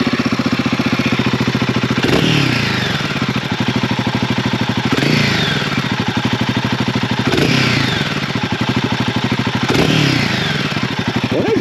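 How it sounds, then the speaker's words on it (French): A Royal Enfield Guerrilla 450 motorcycle engine runs steadily close by with a loud, even rhythmic thrum, revving up in repeated swells every couple of seconds. "on vous fait écouter le fameux moteur"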